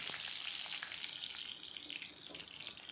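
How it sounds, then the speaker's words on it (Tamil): Whole peeled garlic cloves frying in hot oil give a steady, dense, close-up sizzle that crackles continuously with no pauses. "ஆயில் ஹீட் ஆனோன்னு முழு பூண்டு 1 தோல் உரித்ததை ஆட் பண்ணிக்கலாம்."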